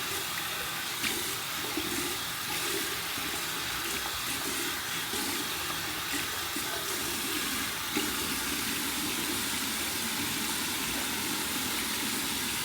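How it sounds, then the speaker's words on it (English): A shaving brush from a vintage Gillette Trac II razor set is rinsed under a lukewarm running tap, giving a steady, close splashing water stream that continues without pause. "all I'm doing is just running it under water"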